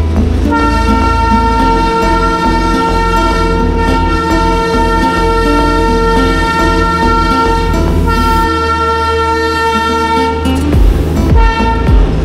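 Darjeeling Himalayan Railway toy train with a steam engine passing close by on a monsoon day in Darjeeling, loud sustained tonal horn blasts ringing over continuous rumbling rail noise, no talking.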